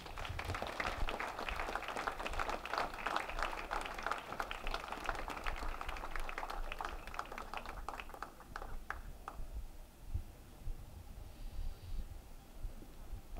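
Applause rings out from the audience at the 2017 Enfield Athletic Hall of Fame induction ceremony, dense and fairly quiet at first, then thinning to scattered claps and fading into low room noise.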